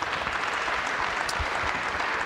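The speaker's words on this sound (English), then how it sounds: "So give them a warm round of applause." Warm audience applause at an awards ceremony, a brief burst of steady, evenly dense clapping from a sizeable crowd, with no speech over it.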